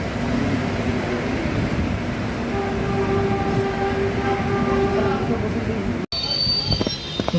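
A train pulls into Dakshineswar station with a loud, steady rumble and long high-pitched wheel squeals, then a sudden cut to brief clatter and bright metallic ringing.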